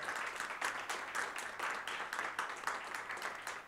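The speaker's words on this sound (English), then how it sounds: "let's give a round of applause" An audience at a talk on workers fighting modern slavery in Brazil gives a round of applause, a steady wash of many hands clapping, moderately faint and continuous throughout.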